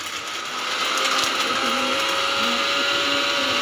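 An electric blender grinding onion and tomatoes into paste, a loud close steady whirring drone that starts up after a brief pause and runs continuously.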